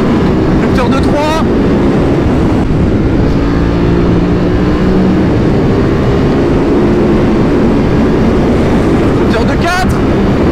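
A BMW F900XR motorcycle with a Stage 1 remap hits its rev limiter in third gear, a loud, close, continuous engine drone mixed with heavy wind rush, with short sharp bursts near the start and end.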